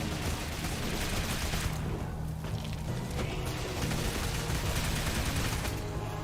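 Rapid video-game gunfire, bursts of automatic shots and booms packed tightly together at a loud, constant level with no pauses throughout.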